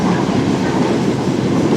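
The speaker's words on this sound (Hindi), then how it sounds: "ट्रेन दौड़ लगा रही थी हैदराबाद टंडवादम के दरमियान" A passenger train running on rails between Hyderabad and Tando Adam in Sindh, a loud, continuous close rumble and rattle of wheels heard from inside the moving carriage.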